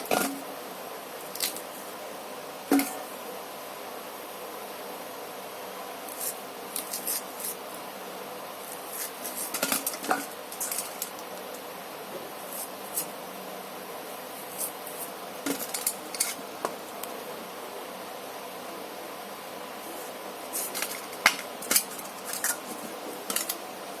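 Peeled taro being cut with a knife, heard as scattered soft clicks, taps and slicing scrapes against a board, irregular and fairly quiet over a low room hiss, with no talking.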